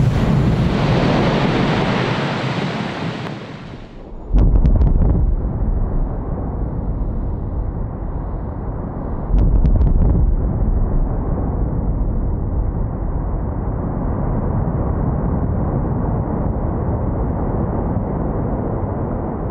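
A blasting explosion in a limestone quarry in the Nördlinger Ries, a sudden deep boom followed by a long rolling rumble, with a second thud partway through and a fading roar of debris.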